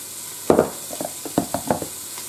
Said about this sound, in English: I'm gonna put like a spoonful in there and mix it up